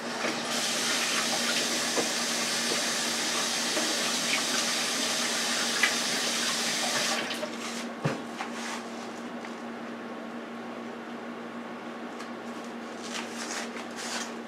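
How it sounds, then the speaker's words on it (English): Tap water runs steadily into a sink for about seven seconds while hands are washed beneath it, then the flow drops to a quieter trickle with occasional splashes and knocks, no talking. "Let me wash my hands."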